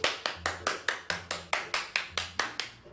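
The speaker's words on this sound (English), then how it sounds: "Round of applause for you, Scott." A single person claps in a steady, even rhythm, about a dozen sharp close claps in a row with no crowd and no talking, tapering off at the end.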